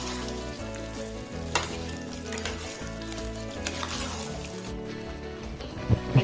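Thick, glossy samba wheat halwa cooked in ghee is scraped and poured from the pan into a ghee-greased tray, giving a close, steady wet sizzle with soft sticky stirring and scraping sounds throughout, a couple of sharper knocks near the end.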